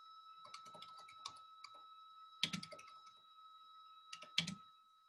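Light clicking of keys on a computer keyboard in short bursts with pauses between, close by, with a steady electronic hum behind.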